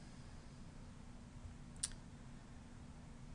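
One short, crisp computer mouse click sounds once against a quiet background hum while a program is being installed.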